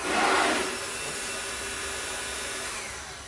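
A steady, airy motor whir with a broad hiss, slightly louder at the start, then holding constant; a Ryobi cordless leaf blower running close by, no voices.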